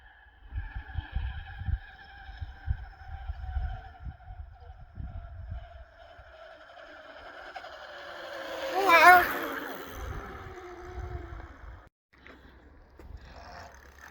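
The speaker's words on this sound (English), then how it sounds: "first go on the 60 volt 3000 watt rear hub DIY Voodoo Bizango mountain bike" Electric mountain bike, a DIY Voodoo Bizango with a 60 volt 3000 watt rear hub motor, being ridden: a steady electric whine over rumbling wind buffeting, swelling to a brief louder surge midway, then easing off.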